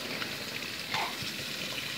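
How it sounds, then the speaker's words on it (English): Hot water runs from a sink tap in a steady, soft, faint rush with small splashing fluctuations throughout, and no voices. "I'm running hot water."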